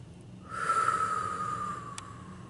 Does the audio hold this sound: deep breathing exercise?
yes